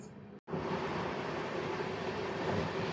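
AP Express passenger train number 20805 running between stations, a steady broadband rumble and rattle heard from inside the coach after a momentary cut at the start, moderately loud and continuous.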